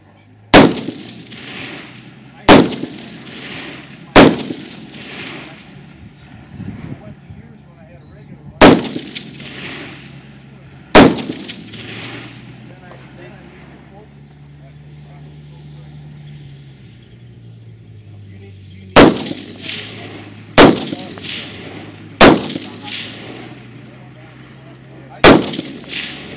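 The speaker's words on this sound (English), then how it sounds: "Probably just go back to that ACOG and shoot it." Rifle shots ring out on a stage of a 3-gun shooting match: about ten sharp, loud cracks, each trailing into an echo, fired in two clusters separated by a pause, over a low engine hum.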